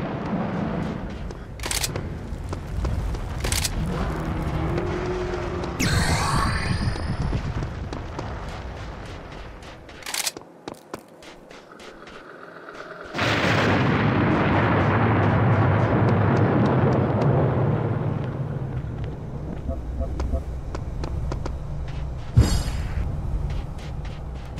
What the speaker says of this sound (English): Nothing says stopping power like a portable cannon.